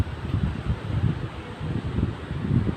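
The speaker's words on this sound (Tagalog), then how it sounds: "Mararamdaman nyo naman guys yung pagaspas ng hangin." Wind gusting under a Talisay tree beside seaside cottages, a low rumbling buffet that rises and falls in waves, with no voices.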